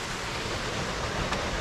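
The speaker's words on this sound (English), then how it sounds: "So this is waterfall number one." Constant broadband rush of a waterfall in Samaipata, Bolivia, a dense, steady roar filling the whole clip at close range with no pauses or voices.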